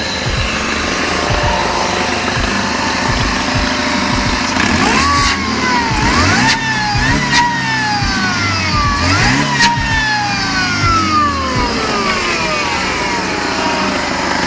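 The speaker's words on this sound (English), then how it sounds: "let's give it a quick rev. See what it sounds like." A Mercedes W202 engine with stainless steel headers revs up sharply several times, rising and falling in quick bursts, with a raspy exhaust note, close by.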